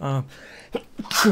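A single sharp sneeze bursts out near the end, loud and close, after a stretch of people talking in a casual group conversation.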